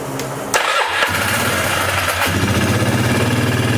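A Polaris Magnum 325/330 ATV engine catches with a sharp crack and settles into a rough, loud idle, chugging steadily up close without any talking, idling only with the throttle held barely open.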